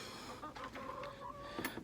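Chickens cluck softly inside a backyard chicken coop, a few faint, close murmuring clucks over steady low ambience.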